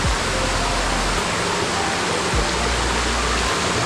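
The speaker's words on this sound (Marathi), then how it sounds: "धबधबा भरपूर आहे" Waterfall near Bhal village: a steady, loud, broadband rush of falling water fills the whole stretch, with a few low rumbling thumps near the start and midway.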